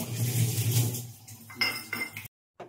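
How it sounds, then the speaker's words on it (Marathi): A metal kadhai, an Indian wok, set down on a home kitchen stove with clanking and scraping of metal cookware, a few sharp knocks, then a sudden cut to silence and one last faint clink. "आता मी आमटीला घेते, कढई ठेवलेली आहे"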